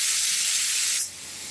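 Sprayer misting a couple of laid-out pieces, a loud steady close hiss that drops abruptly to a quieter, thinner spray partway through.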